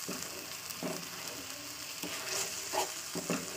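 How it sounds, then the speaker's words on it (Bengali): Masala spice paste sautés in a pan with a steady, soft sizzle and frying hiss, broken by faint stirring scrapes, fairly quiet and with no talking. "এই মশলাটা যতটাই কষাবেন ততটাই কিন্তু তরকারিটা টেস্টফুল হবে।"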